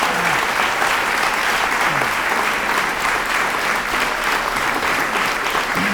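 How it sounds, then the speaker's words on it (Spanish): Sustained applause from an audience at a lecture, steady and dense clapping throughout with no voices on top. "vaya por nuestra parte este aplauso de todos"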